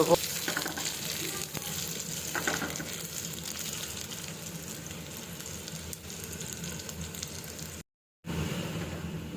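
Chopped dry chillies fry in hot oil for a taro flower dish, making a soft, steady sizzle with light stirring. The sound cuts out briefly near the end.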